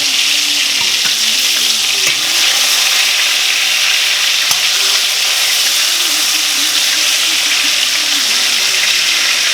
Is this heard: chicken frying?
yes